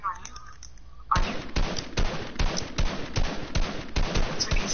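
Gunfire in Fortnite comes as a loud, evenly spaced series of sharp shots, about a dozen in quick rhythm, starting abruptly after a quieter moment, with a little background noise.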